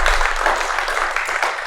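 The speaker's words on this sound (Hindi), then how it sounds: "तो ज़रा टाइमिंग से ताली बजे एक दफ़ा, ज़रा ज़ोरदार ताली" Audience applause at a Pakistani talk show, a dense, loud burst of many hands clapping at once that carries steadily for the length of the clip.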